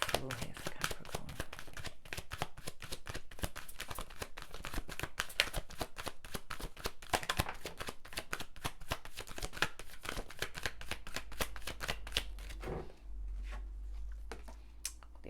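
Tarot cards are shuffled continuously, a dense run of crisp riffling and flicking clicks close by, with a soft voice talking quietly underneath throughout and the shuffling fading near the end.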